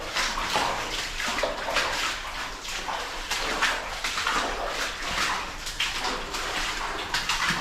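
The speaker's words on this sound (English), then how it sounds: "Very splashy through here. Not much I can do about that noise." Steady splashing and sloshing of water, like someone wading through a flooded gold mine tunnel, continuous and fairly close with no talking.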